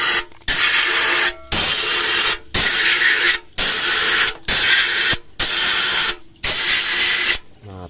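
Aerosol cleaner sprayed into the push rod holes of an engine head caked with jelly-like oil sludge, in six or seven loud hissing bursts of about a second each, split by short pauses.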